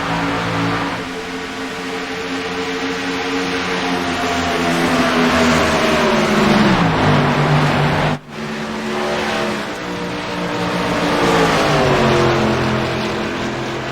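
Race cars in an All American Racing League event at Chicagoland roar loudly together on a green-flag restart, engines pitching up and down through the laps with a brief dip midway, no talk.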